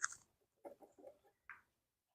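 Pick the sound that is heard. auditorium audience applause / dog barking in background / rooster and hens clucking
rooster and hens clucking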